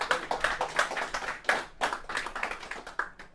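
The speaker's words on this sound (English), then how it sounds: "A round of applause for all the past and" A business-meeting audience gives the candidates a round of applause, a dense, moderately loud patter of many hands clapping in uneven bursts with no voices over it.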